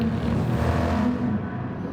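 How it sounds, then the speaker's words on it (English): A Ferrari race car engine in a racing game, a steady close drone that holds its pitch briefly before easing off and fading at the top end. "Oh, that Ferrari just sounds amazing."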